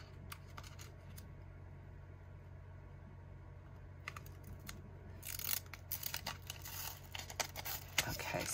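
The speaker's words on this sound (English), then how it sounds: "So let's peel up this one now." Protective backing peeled off Dura-lar film: a few faint crackly rips early, then louder crinkling and tearing in the last few seconds, close and quiet against a low hum.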